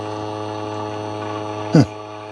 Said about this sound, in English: It's emptying the dirty water tank first.